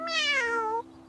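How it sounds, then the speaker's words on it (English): A cat meows once, a clear drawn-out tone that falls in pitch, sung into a nursery song about farm animals and ending in a brief soft knock. "The cat says meow both day and night."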